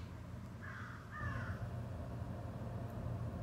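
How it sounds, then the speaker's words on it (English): Two crows give harsh caws in quick succession, somewhat distant, over a steady low outdoor rumble, with no voices. "the crows are going crazy right now"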